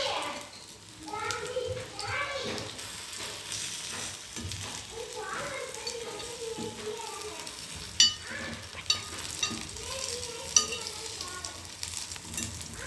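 Green gram paniyaram frying in a pan gives a soft, continuous sizzle with occasional utensil clinks and scrapes, heard under an adult talking, with children's voices in the background.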